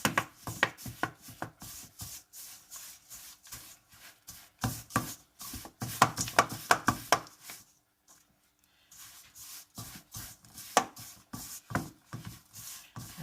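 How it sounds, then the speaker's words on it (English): Butter being mashed into sweeteners in a bowl for a low-carb chocolate cake, a rapid run of close, dense scraping and tapping strokes that pauses briefly near the middle and then resumes, with no talking. "So in the bowl I already have my sweeteners and I'm mashing in my butter."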